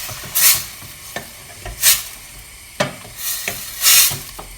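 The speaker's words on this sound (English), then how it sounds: "you're simply just going to stir through the vegetables" A whole can of tomatoes being stirred through vegetables in a pan, with repeated scraping sweeps and light knocks of the utensil over a low sizzle, close and fairly loud, without talking.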